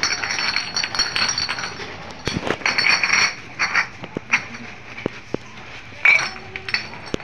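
Glass bottles clink repeatedly as they are stacked into basins while sorting scrap goods, irregular close clinks and knocks in bursts, with faint voices in the background.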